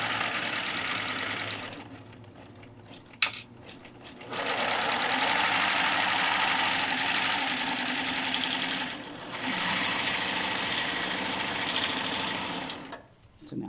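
A serger sewing machine stitches and trims a seam on a pillow, a fast whirring buzz running in long bursts with short pauses between, close and fairly loud.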